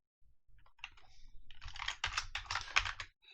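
Rapid typing on a computer keyboard while entering C# code in Unity, a close, steady patter of clicky keystrokes that grows denser and louder partway through, with no talking.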